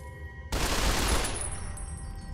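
A burst of Fallout 3 gunfire in the Capital Wasteland erupts suddenly and loudly, a dense volley that stays strong before trailing off into a lingering reverberant tail.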